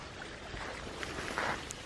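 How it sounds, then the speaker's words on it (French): Flowing water from a small stream cascading under a little bridge on Mount Misen, Miyajima, Japan: a soft, continuous splashing rush at moderate distance, with a brief brighter gurgle near the end and no talk. "Ah, un petit pont avec une cascade, ça plaît toujours quoi."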